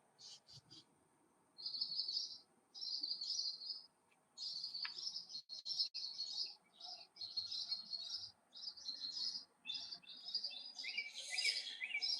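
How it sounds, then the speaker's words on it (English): Birds sing in a garden at dawn while street lights are still on, with repeated high chirping phrases in a regular pattern of bursts and short gaps, fairly faint and distant, and quiet low voices underneath. "Paul, we're basically doing bird watching right now and watching the sun come up."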